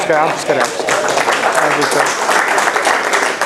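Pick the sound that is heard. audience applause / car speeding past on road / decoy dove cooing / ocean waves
audience applause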